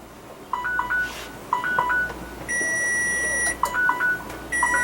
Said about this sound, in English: Alright, there's my timer.